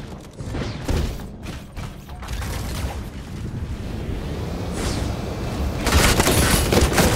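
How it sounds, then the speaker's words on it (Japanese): Gunfire and mechanical clatter in the video game Super Mecha Champions, a dense rumbling barrage of bursts and booms that swells louder toward the end, with no talk. "銃声が聞こえた。"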